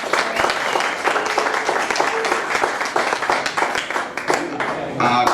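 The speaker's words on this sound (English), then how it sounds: "Please, big round of applause for these two up here." Audience applause on a live show, a sustained burst of fairly loud clapping with a few voices mixed in, fading slightly before a final swell.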